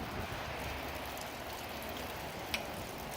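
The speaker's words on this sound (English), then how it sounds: "It's raining pretty good." Steady rain falling outdoors, a soft even hiss of drops on surfaces with one brief sharper tap, faint and continuous with no voices.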